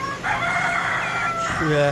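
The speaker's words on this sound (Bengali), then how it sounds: "দেখেন এখানে দুটো মোরগ আছে" Two roosters on a rooftop poultry setup crow loudly and close by, a long drawn call filling the clip with another crow beginning at the end.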